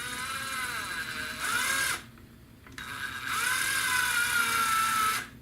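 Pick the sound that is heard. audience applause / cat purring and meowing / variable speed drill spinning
variable speed drill spinning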